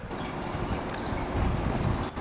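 A train rolls directly over a camera set on the tracks, producing a loud, close, continuous rumble with wind-buffeted roar that swells slightly toward the end.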